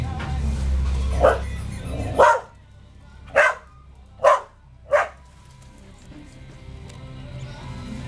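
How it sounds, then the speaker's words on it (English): A nearby dog lets out a run of five sharp barks, spaced irregularly, over a low background rumble and faint room noise. "There's no reason to bark. Don't bark. Stop the barking."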